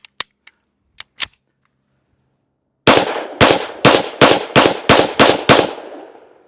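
Nine sharp gunshots from a 5.7x28 firearm loaded with FN green tip ammunition, a few faint ones first, then a rapid, loud, evenly spaced string of seven, each with a short ringing decay.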